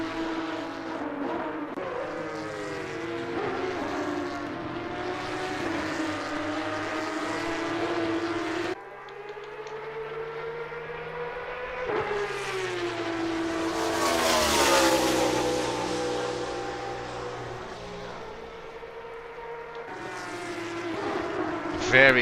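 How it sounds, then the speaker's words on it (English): Porsche Cup GT3 race cars roar through a racing sim at Imola, engines rising and falling through the gears as they pass, with a commentator talking over them throughout. "Very, very great to hear these cars"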